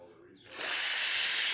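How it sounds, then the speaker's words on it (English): A Rocket Giotto 5 espresso machine steam wand bursts into a loud, steady hiss after a brief quiet moment, holding strong pressure without letting up. "let's go ahead and test the steam pressure"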